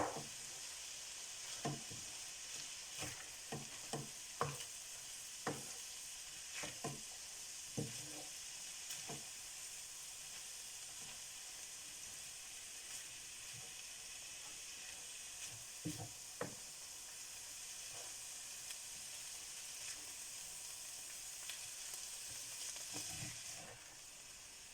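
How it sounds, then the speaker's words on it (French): Onions fry in a pan for beef samosas, giving a steady soft sizzle. A utensil scrapes and stirs in scattered clinks and knocks over the hiss, and no voice is heard. "je mélange bien, histoire que tout soit bien réparti."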